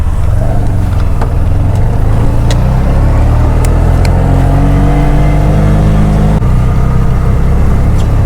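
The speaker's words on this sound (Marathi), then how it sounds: "रिक्षा मिळाली" An auto rickshaw drives along a rainy ghat road, its engine droning loud and close with a steady whirring hum and a few faint clicks, unbroken throughout.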